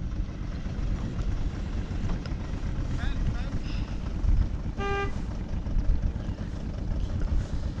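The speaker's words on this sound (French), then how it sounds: "Klaxonne!" A camping car's horn gives a single short, loud honk midway, over a steady engine rumble and wind noise on a roadside in Morocco, with voices talking around it.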